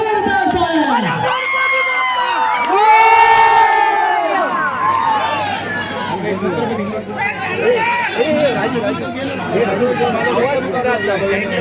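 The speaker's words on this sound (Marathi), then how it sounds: "एकदा जोरदार टाळ्या." A crowd at a state-level kabaddi tournament final roars with cheering, shouting and chatter, loud and continuous with overlapping voices rising and falling throughout, and clapping blended into the din.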